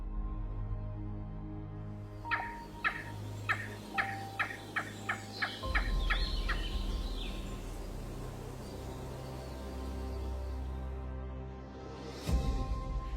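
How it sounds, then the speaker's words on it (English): A flock of guinea fowl calls from dry grass, a run of about nine sharp, evenly spaced cackling notes rising over a low wind rumble, then quieter scattered calls and one last loud squawk near the end. "A flock of guinea fowl moves like a troop of tiny medieval warriors."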